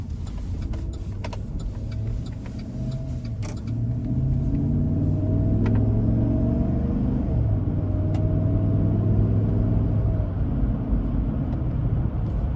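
Low, steady engine rumble and road drone from a 2011 Chevrolet Silverado 1500 LT extended cab pickup with a 5.3 liter V8 and 162K miles, heard from inside on a test drive, swelling slightly as it accelerates, with no talking.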